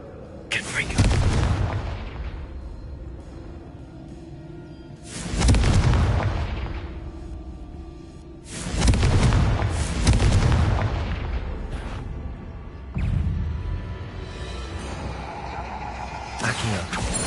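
Confringo blasting spell explosions in Hogwarts Legacy, several heavy booming blasts spaced a few seconds apart, each rumbling and decaying, with a voice calling out between them.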